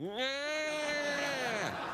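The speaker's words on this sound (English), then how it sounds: "Hey, did you hear a cat?" A cat's drawn-out meow, rising at the start, holding steady and then falling away, fairly close and clear for nearly two seconds against faint room background on a late-night talk show set.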